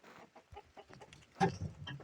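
Chickens in a farmyard give a few soft, scattered clucks across the first moments, then a louder burst of clucking and squawking from one bird close by, with quieter clucks continuing after.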